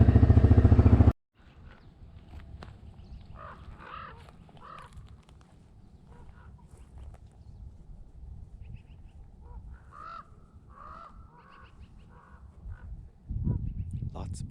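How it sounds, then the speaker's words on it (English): Crows and other birds call in scattered bursts near a lake along a forest service road, moderately close, after a loud rumble of wind that cuts off abruptly at the start. "Lots of birds there."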